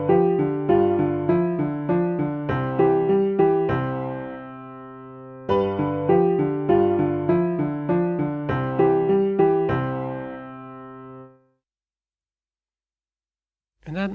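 Synthesized bass line variation played back in SunVox music software: a steady run of plucky, tonal notes in repeating phrases, a brief pause midway, then ringing out into silence near the end.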